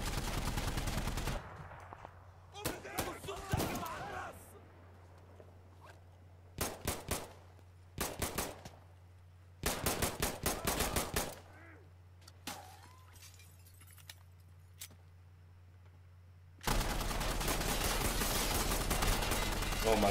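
Pistol and mounted vehicle gun trade fire in Insurgency Sandstorm: sharp, loud bursts of shots in clusters separated by short lulls, with a steady low hum underneath and heavier sustained firing at the end.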